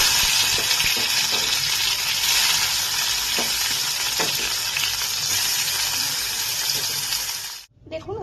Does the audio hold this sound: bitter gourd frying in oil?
yes